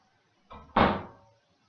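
A door moves with a soft initial thump followed by a louder, fuller bang as it swings, a brief two-part sound heard alone in a quiet room.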